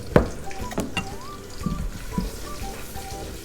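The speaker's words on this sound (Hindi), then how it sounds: "प्याज हम फ्राई करेंगे जी, ब्राउन करेंगे।" Two medium onions fry in a pan for Bombay biryani, a soft, close sizzle broken by a few clinks and scraping stirs.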